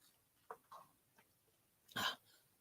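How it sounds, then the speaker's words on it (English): A single person clears their throat, a short rough burst near the end, after a couple of faint smaller throat sounds in an otherwise quiet room. "Sorry, I need to clear my throat."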